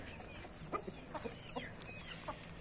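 Grey roosters kept on a breeding farm cluck in short scattered bursts at a distance, faint soft calls over a quiet background.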